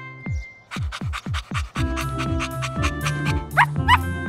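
A cartoon puppy pants in quick rhythmic bursts, then gives a few short yips and whines amid a busy cartoonish background.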